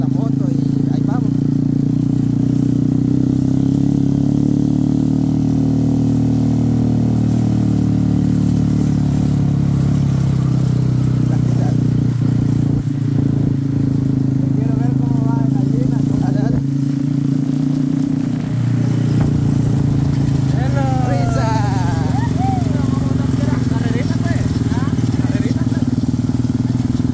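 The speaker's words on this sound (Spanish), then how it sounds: "A ver si Gina se atrevió a agarrar la moto y ahí vamos" A motorcycle engine drones steadily throughout a group ride out to a village, a continuous close, loud hum with occasional voices over it.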